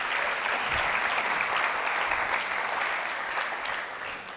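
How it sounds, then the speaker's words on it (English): An audience at a video game composition talk gives a round of applause for the event organizers, a steady, moderately loud patter of many hands that tapers slightly toward the end. "can we have another round of applause for that"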